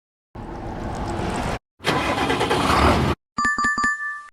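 A tractor engine cranks and catches in two loud, sustained bursts separated by a short gap, followed by a distinct tonal chime-like sound with sharp repeated pulses.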